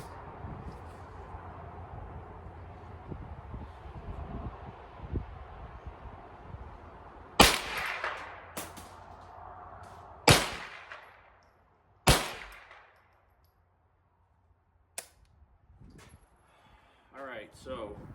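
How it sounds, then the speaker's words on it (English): Several sharp .22 LR rifle shots crack out during bench rest shooting outdoors, spaced a couple of seconds apart, with talk before them and faint sounds after. "bench rest shooting these 2 rifles"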